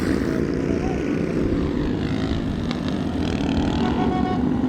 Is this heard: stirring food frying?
no